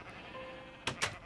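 Minecraft sheep bleat twice in quick succession near the end, short nasal game bleats following a quiet stretch of background hum.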